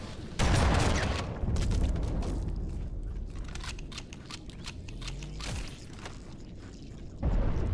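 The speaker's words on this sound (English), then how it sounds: "Explosions, eh?" Explosions and gunfire in the Halo video game: repeated booming blasts and bursts of shots, loud and close, with a dense rumbling battle backdrop throughout.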